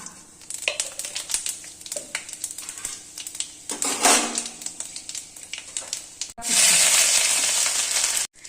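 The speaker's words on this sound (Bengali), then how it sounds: "এই তেলে আমি শুকনো লঙ্কা দিয়ে দিচ্ছি। এই 5 ফোড়ন দিলাম।" Dried red chillies and Bengali five-spice frying in hot oil, crackling and popping close by with scattered clinks, then a sudden loud, steady hiss when the spices hit the pan near the end.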